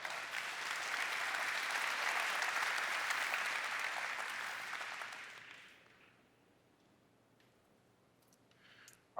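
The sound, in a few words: applause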